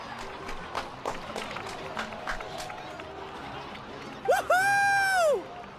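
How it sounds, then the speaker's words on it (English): A small crowd in the video game Genshin Impact gives sparse, scattered clapping, then a single bright voiced cheer rings out near the end. "Let's give a huge round of applause to our brave young warrior, Kachina!"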